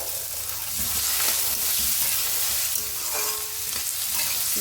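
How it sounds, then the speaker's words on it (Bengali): Potatoes and green chili fry steadily in a pan, a continuous loud sizzle with soft stirring scrapes running through it, close up and without voices. "ভালোভাবে ভেজে নিতে হবে"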